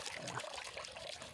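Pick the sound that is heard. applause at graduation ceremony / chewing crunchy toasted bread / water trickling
water trickling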